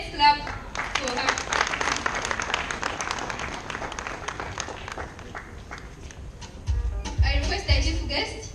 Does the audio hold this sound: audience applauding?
yes